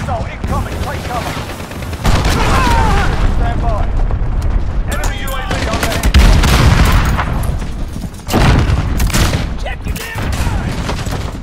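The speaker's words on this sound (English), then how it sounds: "Missile incoming, take cover!" Incoming missile strike in the Modern Warfare shooter during a 10v10 Headquarters match: heavy booming blasts and rattling gunfire bursts, several loud surges with sharp onsets, mixed under game chatter and voices.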